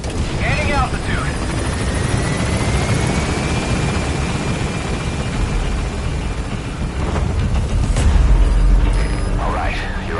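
A helicopter lifts off in Metal Gear Solid V: The Phantom Pain, its rotor chopping loudly and steadily and swelling near the end as it gains altitude, with radio voices talking over it.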